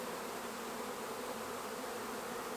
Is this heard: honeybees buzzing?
yes